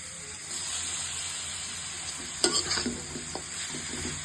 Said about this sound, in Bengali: গাজরগুলো দিয়ে একটু হালকা ভেজে নিব